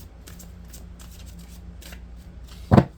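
A deck of oracle cards is handled with soft, quiet riffles and shuffles, ending in one sharp, close slap of cards.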